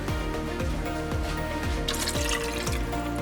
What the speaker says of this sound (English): I'm gonna go ahead and add another cup of water to the beans